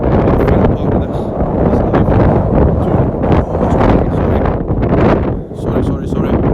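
Strong gusts buffet the microphone on the Royal Mile in Edinburgh, a loud, rumbling roar that swells and dips unevenly throughout, with faint talk buried beneath.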